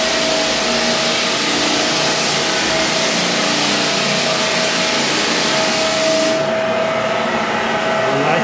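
American Sander Legacy floor sander grinding across a wood floor, a loud, continuous close-up drone with a steady tonal whine running through it and no talking.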